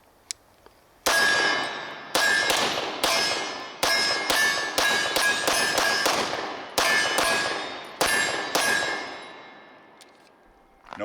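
A Wilson Combat 92G Vertec Brigadier Tactical Beretta pistol, loaded from an M9A3 magazine, fires its first round double action and then a rapid string of about a dozen sharp, loud reports, each ringing briefly before the next.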